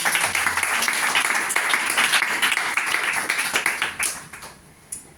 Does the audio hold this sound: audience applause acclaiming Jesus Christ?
yes